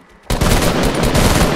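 Automatic gunfire in the video game Fortnite erupts after a short quiet moment, then rattles on as a loud, rapid burst of shots, close and continuous until the end.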